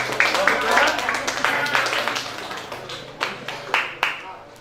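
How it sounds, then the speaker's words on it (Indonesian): A class of children claps in quick, scattered bursts that build into uneven applause, then trails off into a few separate, sharp claps near the end, all close and fairly loud. "Benar, beri tepuk tangan juga."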